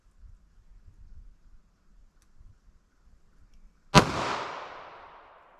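A single sharp, loud gunshot from a Ruger LCR revolver firing .32 H&R Magnum, with a ringing decay after it and faint low rumbling before the shot.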